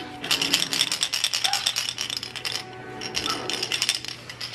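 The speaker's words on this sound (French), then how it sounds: "Ils sont le fun, il fait du bruit. Oh, les hochets!" Baby rattles shaken indoors, a quick rattling clatter in two bursts with a short gap between, fairly close and moderately quiet.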